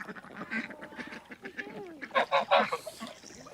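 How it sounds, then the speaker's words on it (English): A black duck on a farm quacks in several short, nasal bursts at close range, the loudest calls coming in a quick cluster near the end. "The black duck."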